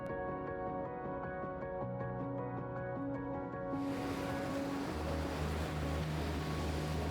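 Ocean waves roll in at Hiriketiya Beach on Sri Lanka's south coast, a steady broadband wash that swells louder halfway through, with a sustained tonal hum running beneath the surf.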